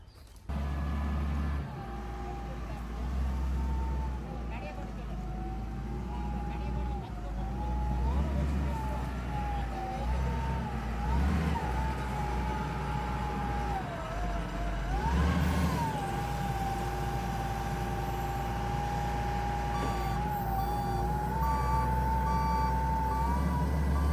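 A truck delivering soil reverses with a steady electronic beeping over a low, continuous engine rumble, heard at moderate distance outdoors.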